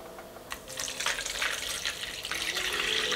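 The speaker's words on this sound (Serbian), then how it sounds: "Sipamo celu količinu vode." About 500 ml of lukewarm water is poured into yeast and sugar for bread dough: a continuous splashing pour close by that grows fuller after the first half-second and keeps running steadily.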